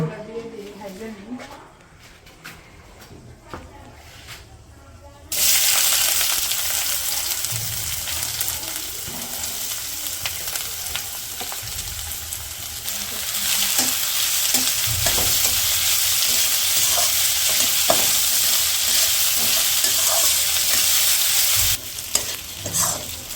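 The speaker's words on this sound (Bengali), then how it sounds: "পেঁয়াজগুলো তো হালকা ভাজে নিতে হচ্ছে। পেস্ট ভাজা হয়েছে" Onions and spice paste fry in a pan in a village kitchen. After a quieter start, a loud, steady sizzle takes over with stirring scrapes, and voices talk over it.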